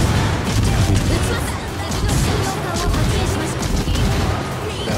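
Naval guns in a World of Warships clan battle fire in a dense, rumbling barrage, with repeated booms layered over a constant low roar.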